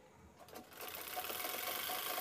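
A sewing machine runs a steady, continuous stitch along the side seam of a handbag, starting after a brief pause and holding an even mechanical whir, close and alone throughout.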